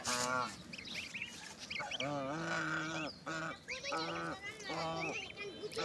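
Goose goslings grazing on grass give repeated, close, nasal honking calls in short bursts with brief gaps, several birds overlapping at times.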